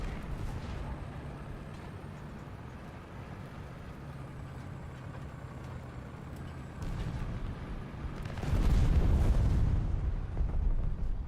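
Bombing explosions in the War Thunder video game rumble continuously as a dense, far-off barrage, with a heavier, louder blast swelling in around the last few seconds.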